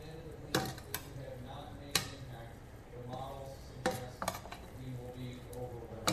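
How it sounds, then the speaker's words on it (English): Cooked rice for lubia polo gets stirred in a pot, with scattered clanks and scrapes of a spoon against metal at an irregular pace, close by and fairly quiet, with soft background noise between strokes. "Now I will mix this. Let me have it. It's far easier to do it with two. You mix the rice."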